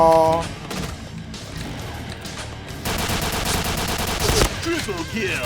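Video game gunfire bursts in rapid automatic volleys, loud and close, with sharp individual shots among the rattling streams. Someone talks over the shooting.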